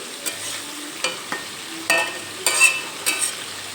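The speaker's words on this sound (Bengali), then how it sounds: "টমেটো দিয়ে আবারও একটু নেড়ে চেড়ে নেব" A spatula stirs a pan of fish roe and potato masala with chopped tomato. Irregular scrapes and clinks recur close by over a soft, steady sizzle.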